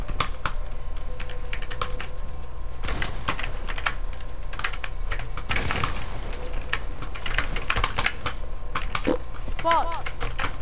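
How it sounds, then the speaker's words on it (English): Someone types on an LED computer keyboard, with dense clicking key presses running throughout, a sharper burst midway, and people talking over it. "I have an LED keyboard."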